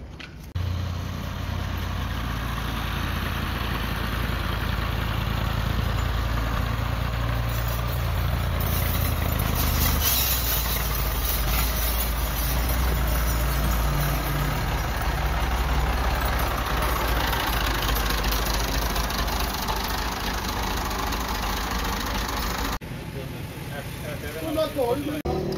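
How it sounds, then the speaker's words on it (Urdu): A Massey Ferguson 240 tractor engine idles steadily with a deep, rumbling low hum throughout, briefly shifting in tone near the end, during tappet adjustment. "ٹیپٹ کرنے سے ٹریکٹر کی آواز میں فرق پڑتا ہے"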